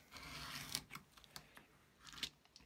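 An X-Acto knife slices through three folded layers of junk mail paper: faint, scratchy cutting strokes and small crackles in quick irregular bursts, close up.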